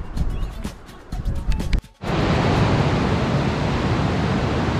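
The Baker River at the Saltón in Chilean Patagonia, where it narrows between the hills, roars as rushing water. Quieter scattered noise gives way abruptly to a loud, steady, close wash.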